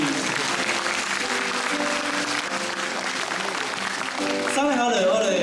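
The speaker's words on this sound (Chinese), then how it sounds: "给她掌声鼓励" Audience applause for a young girl after her ballet dance at a choir's documentary screening and concert, a steady dense wash of clapping throughout, with a voice speaking over it near the end.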